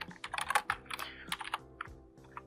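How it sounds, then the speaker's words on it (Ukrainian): Close, quiet typing on a computer keyboard, a short burst of quick key clicks that thins out into a few scattered taps, with no voices. "натисніть комбінацію клавіш Ctrl пробіл"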